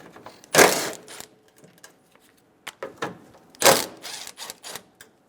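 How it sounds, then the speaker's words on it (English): A 10mm socket wrench loosens grille bolts on a Toyota Tacoma, producing a few loud, close clunks and metallic clicks separated by short quiet gaps, with no speech. "Using a 10mm socket, remove the 2 bolts for the grille."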